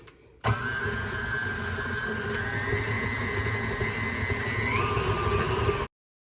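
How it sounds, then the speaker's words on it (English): A stand mixer creams butter and sugar with a steady, loud motor whir that switches on abruptly, holds a constant droning pitch with a slight rise near the end, then cuts off. "So I finished creaming my butter and sugar together."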